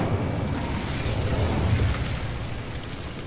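Incendio fire spell cast in a wizard video game: a sustained whooshing, roaring burst of flame, loud and continuous with a deep rumbling low end that swells slightly midway and holds steady.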